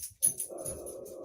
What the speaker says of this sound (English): Whoops, there goes one of the dogs.